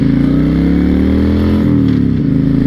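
A 2006 Honda VTX1300 motorcycle with 24,195 miles on it, its engine droning loud and steady at speed while being ridden, with a slight shift in pitch toward the end.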